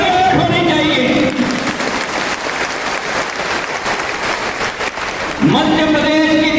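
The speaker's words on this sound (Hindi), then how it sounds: "तालियों की गड़गड़ाहट होनी चाहिए।" An audience of community representatives in Gwalior bursts into loud, sustained applause at a political address. The clapping is framed by a speaker's amplified voice before and after it.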